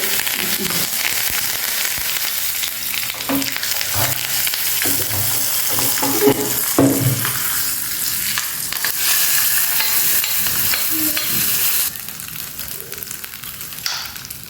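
Dried red chili and curry leaves crackle and sizzle in hot oil while tempering for chutney, a steady close frying hiss with scattered pops and stirring scrapes throughout.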